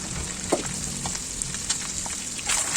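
Eggs fry in oil for egg biryani while a spoon turns them, producing a continuous, fairly quiet sizzle with a few sharp scrapes and clicks of stirring.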